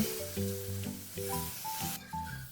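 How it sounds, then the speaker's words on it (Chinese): Pork fat sizzles gently in a dry wok over medium-low heat as it renders into lard, a soft steady frying crackle heard close and fairly quiet, with no talk. "摊开来，干锅煎给它出油"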